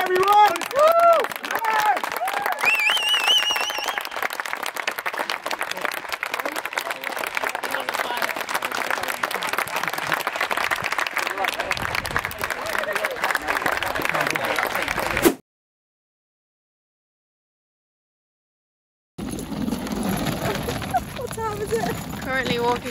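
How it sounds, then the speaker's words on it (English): A crowd applauds after a charity TikTok football match, a long dense run of clapping and cheering with voices mixed in, then a sudden cut to silence before noise returns. "Applause, everyone!"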